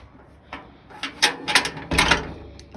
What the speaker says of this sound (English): the bolt slides across